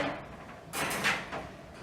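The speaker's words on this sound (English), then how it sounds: "I'm going to close the door." A dog crate door swings shut with a soft scrape and a couple of light rattling clicks of the wire frame, close by and fairly quiet, with no talking.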